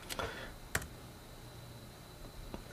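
A few quick, crisp key taps on the keyboard of a Microsoft Surface RT tablet, close by, with short pauses between them.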